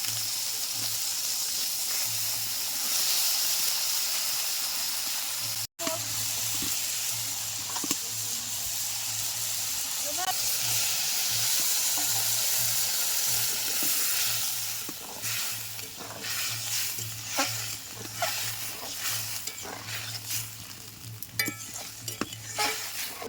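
Small fish and green chillies fry in oil in a pan for a Bengali fish curry, a continuous close sizzle and hiss that turns more crackly and uneven later as the pieces are stirred, with no talk.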